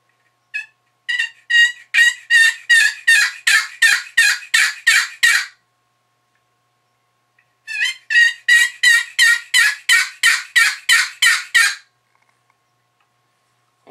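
Two long runs of a friction call sounding turkey yelps, each a quick, rhythmic string of raspy, high notes, separated by a pause of silence.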